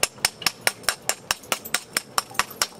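Glass from a TV screen being knapped, flakes struck off with a hammerstone: a steady run of about fourteen sharp, close clicking taps at an even rhythm, with no voice.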